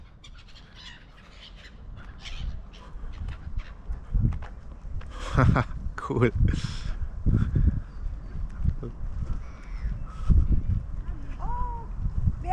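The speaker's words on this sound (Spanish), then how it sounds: "Son gaviotas" Gulls call and squawk on the bank of the Rhine in Bonn in a string of harsh cries, with people talking nearby over soft outdoor background noise.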